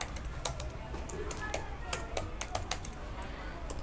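Typing on a computer keyboard while filling in an HTML form: a steady run of light, close key taps at an uneven pace over a constant background hiss.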